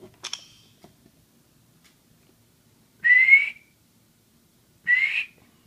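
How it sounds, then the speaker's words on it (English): Two short, bright whistled notes a couple of seconds apart, each rising slightly, after a faint click at the start; otherwise quiet. "Sorry about the whistling."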